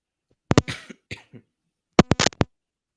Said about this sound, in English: I'm just having a weird cough.